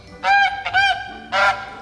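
Honking from a goose at a pond, three loud nasal calls close by: two in quick succession, then a short gap and a third, with no talking over them.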